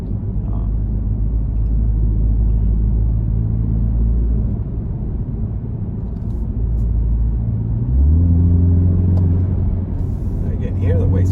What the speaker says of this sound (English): I can hear the wastegate. Hear the turbos spinning.